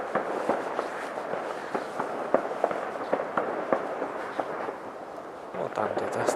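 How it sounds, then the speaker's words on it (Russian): Fireworks or gunfire somewhere outdoors in the distance during the New Year holidays: a scattered run of faint pops and bangs, some in quick clusters, over low ambient noise. "Вот там где-то стреляют."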